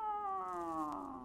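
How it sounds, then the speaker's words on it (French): A wild bush cat sound effect: a single drawn-out, wavering meow that slides gradually downward, close and clear with no talking over it. "un chat sauvage de brousse"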